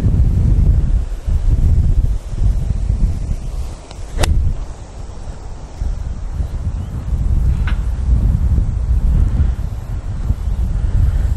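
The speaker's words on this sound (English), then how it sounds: "Oh, it's so windy." Strong wind buffets the microphone in a continuous loud low roar, gusting unevenly, with a couple of faint brief clicks.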